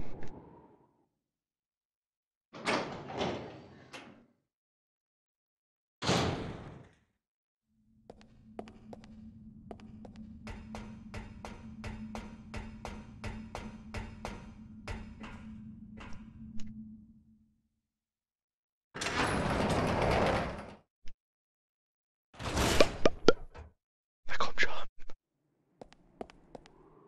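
In the survival horror video game Resident Evil Zero, a door opens with a long, steady mechanical groan and a rapid ticking rattle, framed by separate thuds and footsteps before and after, with no talk over it.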